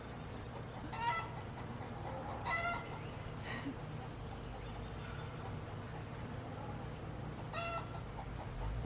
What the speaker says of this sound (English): chickens make a similar sound to that when they lay an egg